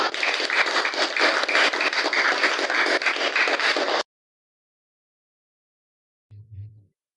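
A class of junior high students applauds together, a dense burst of clapping lasting about four seconds before stopping abruptly, followed by silence and a short low thump.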